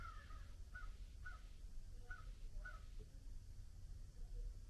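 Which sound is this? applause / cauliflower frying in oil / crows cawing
crows cawing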